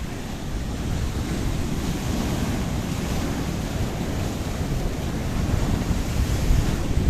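Sea waves break against the rocky Kissonerga coastline near Paphos, Cyprus, as a continuous loud roaring wash with wind buffeting the microphone, swelling slightly toward the end.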